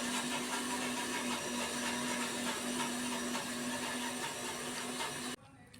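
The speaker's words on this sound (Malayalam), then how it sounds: "മിക്സി ഓണാക്കിയിട്ടുണ്ട്" A kitchen mixer grinder grinds at full speed with a loud, steady whirring drone and a constant motor hum, then cuts off abruptly just before the end.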